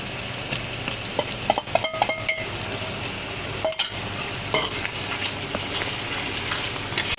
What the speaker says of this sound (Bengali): পেঁয়াজটা আদা ভাজা হয়েছে এবার আমি রসুন বাটাটা দিয়ে দেবো